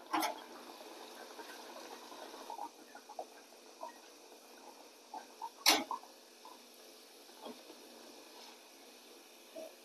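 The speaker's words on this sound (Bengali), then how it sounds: "এইভাবে আমি সবগুলো এক এক করে ভেজে নেব" Lote fish kachori frying in hot oil, a quiet continuous bubbling sizzle with scattered pops and crackles and one sharp louder spatter midway, with no voices.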